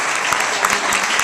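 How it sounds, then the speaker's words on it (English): Short, loud burst of audience applause at a film festival awards ceremony, dense clapping filling the room, heard alone. "I'd like to hear a big round of applause for my beautiful co-presenter"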